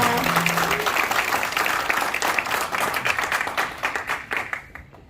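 An audience at a fundraising evening for a cartoon evangelism exhibition breaks into loud, dense applause that fades gradually toward the end, with a brief voice at the start.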